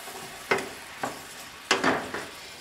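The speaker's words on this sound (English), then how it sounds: "I'm going to give that a stir." Chopped carrots and tomatoes being stirred in warmed olive oil in a frying pan for Turkish-style green beans, with several distinct scraping strokes and clacks of the utensil over a faint sizzle.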